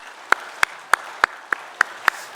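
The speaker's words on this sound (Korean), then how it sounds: "우리 하나님께 영광의 박수 올려드립시다." Clapping in a church during a Sunday service: eight crisp, evenly spaced claps in a steady rhythm, close and distinct against a quiet background.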